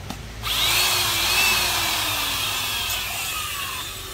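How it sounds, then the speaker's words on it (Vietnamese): A Hitachi 10 mm rotary hammer drill whirs steadily at close range after a brief quiet start, a loud continuous motor hum with a slight pitch drift and no voices. "Này là con búa đầu 10 ly anh em nha. Hitachi."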